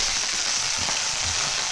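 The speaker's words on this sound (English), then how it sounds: "And now Anne's cooking some chicken" Chicken frying in a pan gives off a dense, steady sizzle, close and fairly loud throughout with no pauses and no talking.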